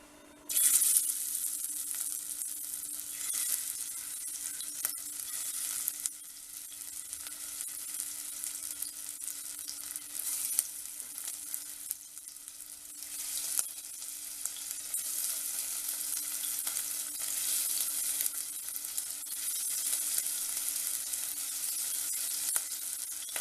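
Prawns marinated in masala roast in hot oil for prawn biryani, giving a steady close sizzle and crackle with a faint hum beneath it, continuing without any voices.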